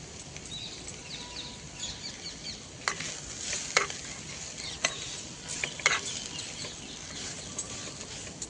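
Cabbage sambharo being stirred in a pan, with soft continuous scraping and sizzling and several sharp clicks of the spoon against the pan, close and steady with no voice.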